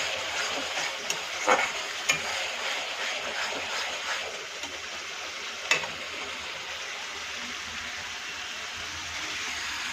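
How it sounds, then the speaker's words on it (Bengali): Spice paste is stir-fried in oil, giving a soft continuous sizzle with occasional scraping and stirring knocks scattered through, moderately quiet and without voices. "এবার বাটনাটা বেশ ভালো করে কষিয়ে নেব।"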